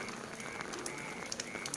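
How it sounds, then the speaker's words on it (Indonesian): Light rain drizzle falling steadily in a Javanese village during the rainy season, a soft continuous patter with scattered nearby drips, fairly quiet and with no voices. "lagi hujan, lagi gerimis kecil-kecil."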